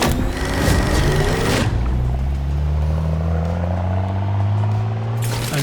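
Porsche 911 Turbo of the 996 generation driving, a continuous loud engine drone with rising and shifting harmonic tones as it accelerates, heard from inside, with no talking.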